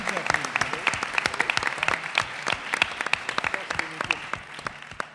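Applause from a conference audience at a Pecha Kucha presentation event, a moderate crowd clapping with irregular overlapping hand claps, fairly close and steady for several seconds without speech.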